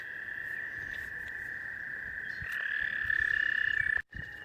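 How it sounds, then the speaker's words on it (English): A chorus of frogs croaking in a steady high trill, swelling louder midway, over a soft background of night insects. "the frogs, which are getting quite loud"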